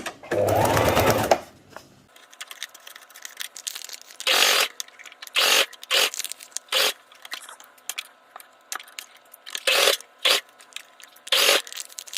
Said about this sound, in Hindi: अब इस साइड पे सिलाई लगा लेंगे। टिश्यू को साथ ही रख के सिलाई करना है।